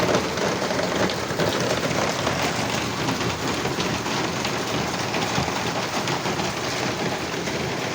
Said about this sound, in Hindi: कितनी ख़तरनाक बारिश हो रही है, आप देख सकते हैं।